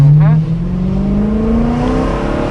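A BMW M3 E92 with 140k miles accelerates with traction control switched off, its engine note climbing steadily in pitch, loud and close from inside the car, with a voice speaking briefly at the start.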